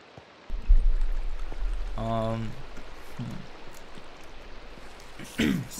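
Rain falls in the Minecraft video game as a steady, even hiss of pattering drops throughout, with a brief tonal game sound partway and a louder burst near the end.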